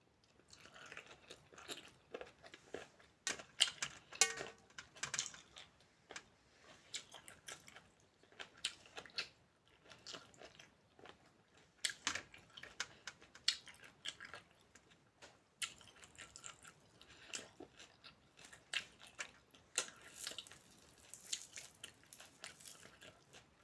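Close, wet chewing and crunching while eating spicy Thai snail salad (koi hoi) by hand, with irregular bites and squishes continuing steadily throughout at a quiet level, no talking.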